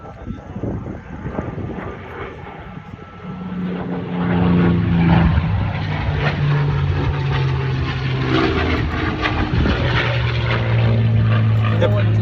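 A P-51 Mustang, the World War II propeller fighter, drones with a loud, steady engine roar and a low rumbling hum that swells after a few seconds and holds, with people talking underneath.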